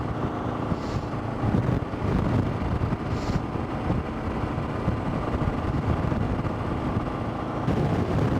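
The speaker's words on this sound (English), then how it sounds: "A lot of wind, crosswind coming off this field over here." Steady, loud crosswind buffets the microphone on a motorcycle ride beside an open field in cold 40-degree weather, a constant broadband roar with a low engine drone underneath.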